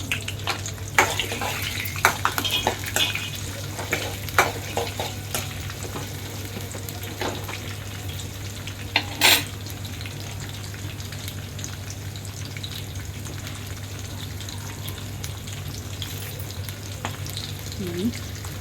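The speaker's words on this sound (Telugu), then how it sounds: "పచ్చిమిరపకాయలు వేస్తానండి." Green chillies sizzle and crackle in hot oil in a pan, a steady frying hiss with scattered pops and a sharp burst of spattering partway through.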